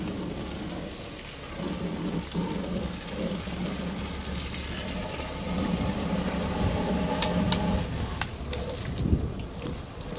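Water from a hose gushes steadily into a lizard enclosure to flush out dirt and murky algae-laden water, a continuous hissing rush with occasional splashes and knocks.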